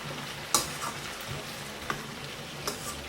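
Fried rice with grated nutmeg and mixed vegetables stirred in a hot pan, a soft steady sizzle broken by a few sharp clinks of the spoon against the pan.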